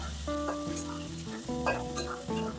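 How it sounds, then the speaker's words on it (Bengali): Shrimp seasoned with salt and turmeric frying in mustard oil in a kadai, a short burst of sizzling and stirring under steady tonal sounds. "হালকা ভেজে নেব চিংড়ি মাছগুলো।"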